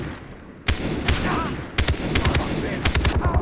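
Gunfire in the shooter video game Far Cry 3, with bursts of sharp shots breaking out after a quiet start and repeating in clustered volleys over steady game ambience, loud and close.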